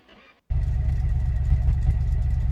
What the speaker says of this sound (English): so she fired up, and she is going to be super loud because I've got absolutely no exhaust on this thing